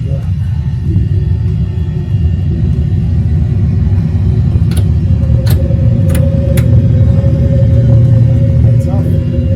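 An airliner in a flight simulator game rolls for takeoff and climbs, a loud steady engine rumble that holds throughout, with a few sharp clicks partway through.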